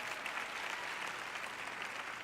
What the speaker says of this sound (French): Une personne ici a applaudi un peu.